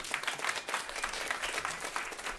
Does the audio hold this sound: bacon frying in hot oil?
no